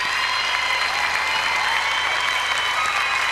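Audience applause fills a dance hall after a Charleston routine at a European Standard dance championship in Denmark, a dense, steady clapping that runs loud and unbroken throughout.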